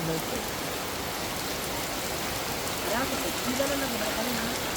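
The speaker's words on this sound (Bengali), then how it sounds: "কি তো বৃষ্টি হইতেছে সকাল সকালে" Morning rain falls steadily outside a village home, a dense even hiss without a break, and a voice briefly rises over it near the end.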